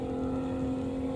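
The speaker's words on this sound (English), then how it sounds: "But yeah, incredible noise out of that engine." The engine of a numbered racing jet ski or speedboat drones loudly and steadily for a brief moment, a sustained, buzzing tone with no change in pitch and no voices.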